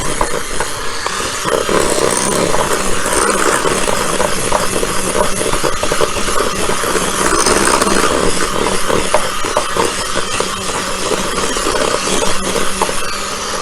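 An electric mixer whirs steadily through sugar cookie dough made with real vanilla, a loud, continuous motorized whine that holds without pause and with no talking over it.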